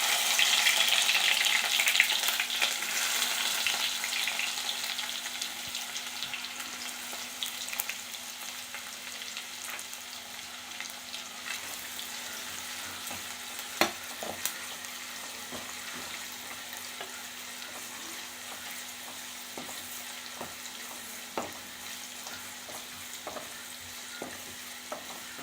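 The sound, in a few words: onions frying with fenugreek seeds in pan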